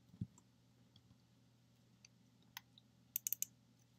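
Computer keyboard keys clicking quietly and sparsely, a few isolated taps followed by a quick burst of three or four keystrokes near the end, over a faint steady hum.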